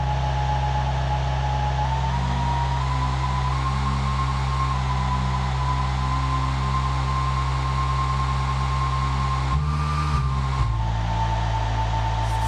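A steady, sustained whirring drone, like a hair dryer blowing, holding a constant pitch with a brief change near the end; no talking.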